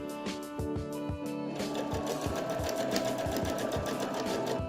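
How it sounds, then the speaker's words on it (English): A sewing machine stitches pillow fabric with a fast, even mechanical chatter of needle strokes. The sound is close and steady and continues without a break. "placed it right side together with the front of the pillow, and just sewed it along"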